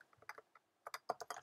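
Someone types on a computer keyboard while writing Java code, producing quiet, sparse key clicks in short clusters separated by pauses.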